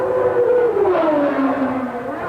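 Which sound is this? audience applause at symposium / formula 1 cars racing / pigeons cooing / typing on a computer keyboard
formula 1 cars racing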